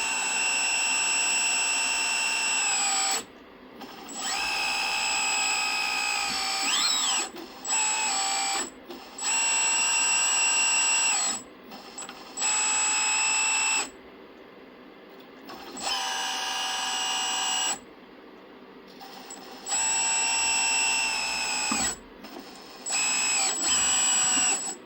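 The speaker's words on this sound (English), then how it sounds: "I'm going to do a little test run with the excavator, just kind of show the operations." Whining hydraulic pump of a 1/16 scale RC Ertl Deere 200D LC excavator conversion runs in repeated bursts, starting and stopping with short silent gaps, close and steady during each run.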